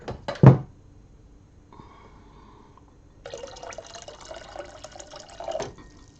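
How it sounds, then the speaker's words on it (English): Warm water is poured into indigo dye vats: a sharp knock, then a thin trickle, then a steadier gurgling pour that runs for several seconds, fairly quiet with no talking. "So I'm going to add a bit of warm water to them"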